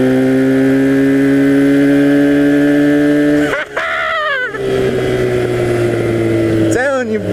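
A 1982 Honda 250cc flat track motorcycle engine runs loud and close, its steady drone dropping as the throttle is let off, then rising again with revving surges; voices can be heard talking over it.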